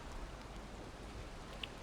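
Steady rain and stormy weather in the video game Valheim, a continuous even hiss of falling rain with no voices.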